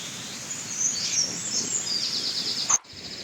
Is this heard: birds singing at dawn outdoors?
yes